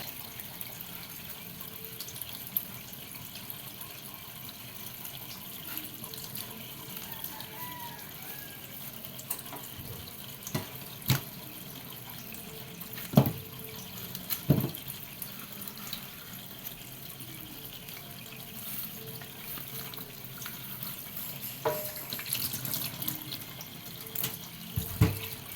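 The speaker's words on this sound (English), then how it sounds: "this is my plantain. I wash it and peel it." Tap water runs steadily into a sink while plantain is washed under it, a soft continuous splash broken by occasional louder knocks and clatters of handling.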